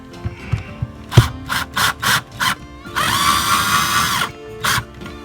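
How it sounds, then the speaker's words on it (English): A power drill driving screws while installing an electrical outlet whirs in several short bursts, then one long sustained run and a final short burst, close and loud. "I'm going to cheat and use my power drill here"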